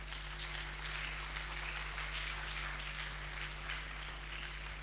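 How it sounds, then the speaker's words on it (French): A church congregation applauds, a dense, steady wash of clapping that runs evenly throughout at a moderate distance, with no speech on top. "Est-ce qu'on peut applaudir pour celui qui a dit Amen?"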